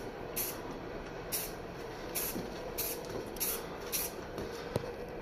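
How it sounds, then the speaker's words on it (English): Rust-Oleum 2X metallic aluminum spray paint is gently spritzed onto a plastic RC car body in about six short hissing bursts, close and soft over a steady background hum. "So just kind of gently spritz it on there."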